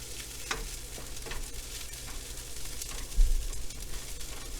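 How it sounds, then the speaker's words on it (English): Kimchi fried rice with kimchi juice and a little toasted sesame oil sizzles in a pan, with steady frying noise and intermittent scraping stirs, one slightly louder, throughout. "Just stir until everything kind of gets a uniform color."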